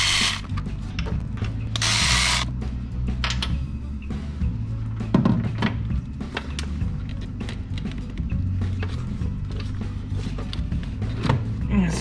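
Ratchet wrench loosening the 12 mm bolts on an engine cam plate during a turbo kit install, with repeated close clicking pawl strokes and mechanical clatter over a low background hum.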